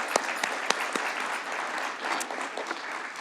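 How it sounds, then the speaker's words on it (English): Audience applause at a conference session honoring invited speakers, a steady dense patter of many hands clapping with a few sharper individual claps standing out, moderately loud and continuous throughout. "If we could give them a round of applause for appreciation."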